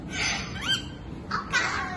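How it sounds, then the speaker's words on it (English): Birds in a large indoor aviary give harsh, squawking calls, a few separate cries spread over a couple of seconds against a busy, echoing background. "the birds are talking, you know?"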